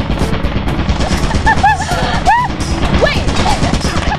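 Turret in the video game Lethal fires rapid bursts of bullets, a dense loud rattling barrage that runs throughout, with a voice shouting over the gunfire and sharp whooping tones sweeping up between volleys.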